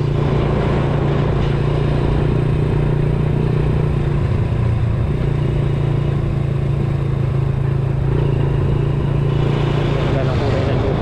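A motorcycle rides slowly along a rural road in Bulacan toward Nueva Ecija, a constant loud engine drone with wind rush, as someone talks throughout.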